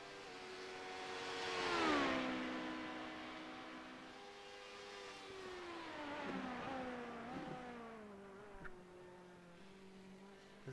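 A Honda LMP2 race car screams along a track at a distance, its engine note rising to a peak pass, then dropping through gear changes and revving again, heard alone without talking.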